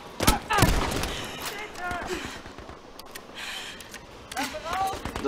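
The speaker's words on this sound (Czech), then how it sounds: "Mě někdo zase střílí." Bursts of gunfire in the Battlefield V video game, set in Rjukan, Norway, with sharp shots early on and scattered firing later, while a player talks over the action.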